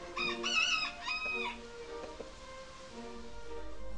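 A Brahma rooster crows a drawn-out, raspy call, followed by a few softer clucks against a low background hum.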